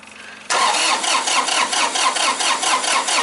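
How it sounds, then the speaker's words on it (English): Massey Ferguson diesel tractor being cranked without starting: after a short quiet moment the starter kicks in with a loud, rapid rhythmic churning that continues steadily without catching. "We'll crank it again."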